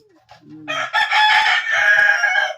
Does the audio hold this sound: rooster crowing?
yes